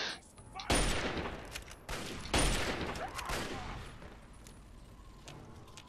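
Gunfire in the video game Fallout 3: several loud sharp shots and bursts strike in quick succession, then trail off into a rumbling, reverberant tail.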